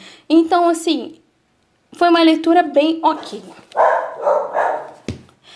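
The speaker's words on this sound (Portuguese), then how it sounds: "vocês estão ouvindo um cachorro latindo" A dog barks indoors in several short, loud bursts, mixed with and partly masked by someone speaking nearby.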